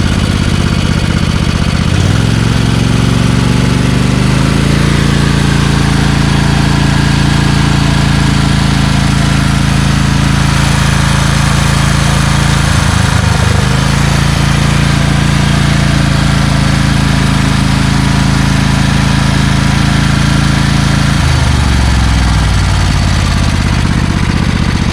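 A Craftsman Eager 1 push lawnmower with a Tecumseh engine runs loud and steady nearby, its droning hum dipping briefly a few times as the load changes; the worn engine smokes and has probable bad rings.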